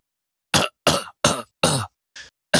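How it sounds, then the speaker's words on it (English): Five sharp coughs from a person, spaced at a steady rhythm with short gaps of silence between them, close and loud, the last one softer. "No, just start coughing."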